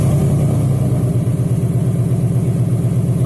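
A 2016 Ford Mustang fitted with a Roush rear diffuser exhaust idles close by, a steady, loud, low burble with an even pulsing rhythm and no talk over it.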